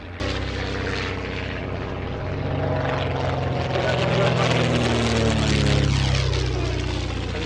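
A propeller aircraft, call sign X-ray Foxtrot, flies past at an evening air show, its engine drone rising and swelling steadily as it draws nearer, loud and continuous throughout.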